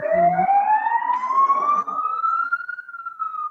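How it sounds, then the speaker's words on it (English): A siren wails in the background, one long rising tone that climbs steadily and then levels off, fairly loud and heard alone with no talk over it. "There's always a siren in the background."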